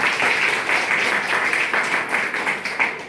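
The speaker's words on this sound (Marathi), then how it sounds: "सर्वांसाठी मी आपल्या स्वतःसाठी एकदा टाळ्या वाजवतो" Audience at a Buddhist vihara gathering breaking into applause, a dense steady wash of clapping hands that holds loud and even throughout.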